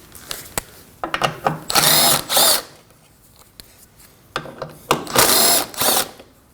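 A power tool spins out two 10 mm bolts on a 2015–2024 Ford Edge 2.0L AC condenser bracket: two close, loud bursts of high whirring, each led by short ratcheting taps and bursts, separated by a pause.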